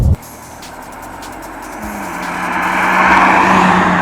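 A BMW E39 with a manual gearbox, its engine note rising steadily as the car accelerates, loud and close throughout after a brief sharp onset.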